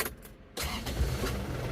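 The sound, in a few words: car engine starting after engine overhaul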